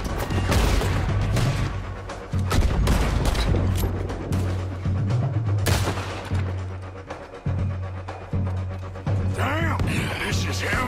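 Gunfire and cannon fire in a battle in Red Dead Redemption 2, with dense overlapping shots and booms under shouting voices and game music throughout.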